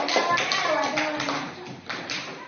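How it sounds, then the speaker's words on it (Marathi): A group claps in a classroom quiz on Guru Tegh Bahadur, a brief burst of tapping, uneven claps under some background voices, close and fairly loud, fading after about two seconds. "व्हेरी गुड, टाळ्या वाजवा."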